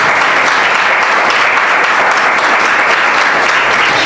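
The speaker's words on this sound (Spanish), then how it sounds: "Denle un aplauso al Señor." A church congregation claps loudly and densely in a continuous burst of applause, close and sustained from start to finish.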